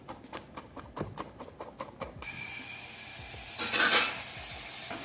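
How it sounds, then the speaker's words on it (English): Food being stirred and sautéed in a pan for a fall mushroom and roasted-nut soup: a few quick scraping stirs, then a rising steady sizzle and hiss that swells louder near the end. "Lovely sound, hearing it starting to sizzle."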